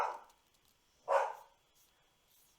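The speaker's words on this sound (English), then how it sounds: "we have got a noisy dog" A dog barks indoors, two separate woofs spaced about a second apart, moderately loud against a quiet background with no talk.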